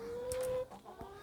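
Chickens in a small backyard homestead coop give a brief, faint cluck, with a short tonal call and a few soft clucks nearby in a quiet setting.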